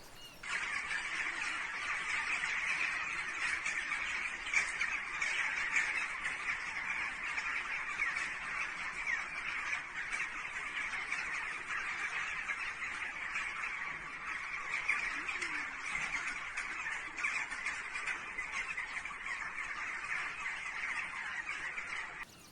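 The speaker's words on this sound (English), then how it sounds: "Before the earthquake, birds were getting restless." Restless birds call steadily before an earthquake in Turkey, a continuous faint chorus of chirps and cries from many birds at a distance for over twenty seconds.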